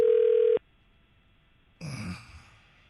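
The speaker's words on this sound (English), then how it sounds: "All right. Dialing him up." A phone dials a cell number: a short, loud steady tone cuts off abruptly, followed by near silence, then a brief burst of connection noise with a breathy sound, and no one speaks.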